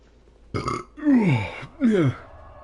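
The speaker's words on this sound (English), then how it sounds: "That might be the most emotional burp you'll hear in your entire life." A loud, drawn-out burp in a video game, a short gruff onset and then two long, croaking belches with falling pitch, alone with no talk.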